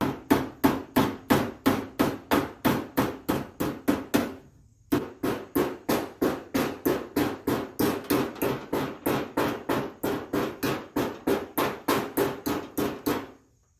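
A hammer striking the rusty patch metal of a car door to bend it back into shape. Sharp, evenly spaced blows ring out close and loud in a rapid steady rhythm, with one brief pause, and no voices.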